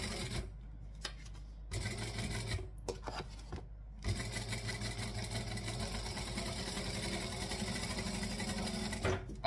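A sewing machine stitches around the edge of a sewing project in short start-stop bursts, then runs in a steady, close whirring hum for several seconds.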